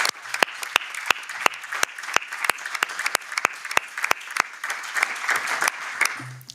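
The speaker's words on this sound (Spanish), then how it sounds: "Por favor, pedimos un aplauso para ellos." An audience at a seminar on security forces claps, a dense run of hand claps with sharp individual slaps standing out, steady for several seconds, moderately loud in a room.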